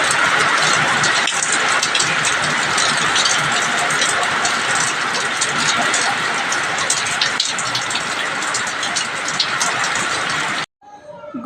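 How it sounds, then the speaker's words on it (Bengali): Heavy rain pouring down steadily in a dense, loud hiss, with a low engine-like rumble underneath, continuing unbroken before cutting off abruptly near the end. "জোর বৃষ্টি হচ্ছে।"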